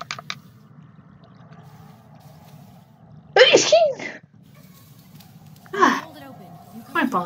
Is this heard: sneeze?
yes